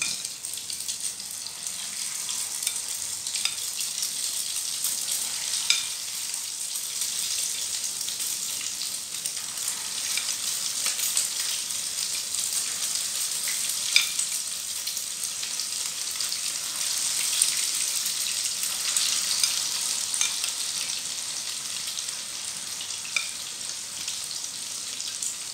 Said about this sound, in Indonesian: Sekarang aku mulai goreng tahunya.